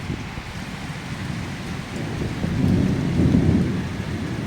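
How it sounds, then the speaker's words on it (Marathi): Thunder rumbles low and heavy through steady rainfall during the first monsoon rain in a Ratnagiri village, the rolling roar swelling louder around the middle before easing, with the rain hissing continuously underneath. "मोठ्या मोठ्याने कडकडत आहेत आवाज येतोय खूप मोठ्या मोठ्याने"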